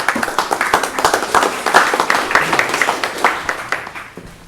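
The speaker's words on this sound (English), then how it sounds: "If you're gonna stand, we're gonna applaud you." Audience at a committee meeting clapping together, a dense burst of applause lasting several seconds, fairly loud and close, without speech.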